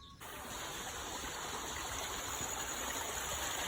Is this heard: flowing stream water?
yes